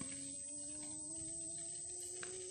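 An electric power steering pump in a car build winds up as a steady whine that climbs slowly in pitch over a faint background hiss. No one speaks.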